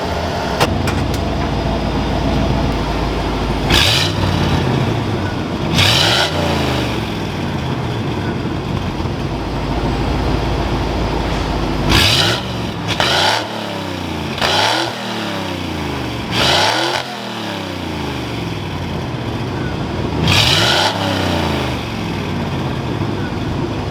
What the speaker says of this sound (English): I'll give a couple little rev clips for you guys so you can actually hear the X pipe